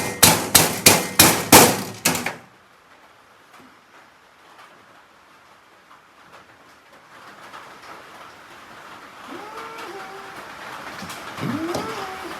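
A rubber hammer strikes six times in quick, even succession during a VW Type 4 air-cooled engine build, then stops, leaving faint background noise and scattered small sounds.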